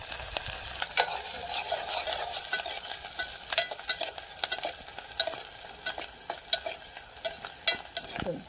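Chopped onion sizzling and being stirred in a pan for a home-style Maharashtrian crab curry, with crisp hissing and frequent sharp scraping clicks of the spatula close up, no talking.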